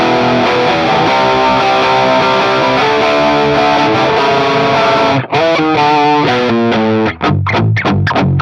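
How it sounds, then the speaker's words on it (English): Electric guitar through an amp on its drive setting with gain near the halfway point, playing distorted chords and riffs loud and close, sustained with two brief gaps near the end; no talking. "on the drive setting with the gain set to about 12 o'clock, you get something that sounds like this"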